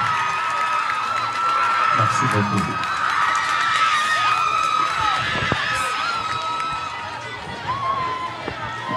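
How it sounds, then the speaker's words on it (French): Audience at a school quiz final in Sindian applauds and cheers the winning sixth- and fifth-grade students, a loud sustained mix of clapping, shouts and whoops, with a voice speaking over the crowd near the end. "Je les applaudis très fort"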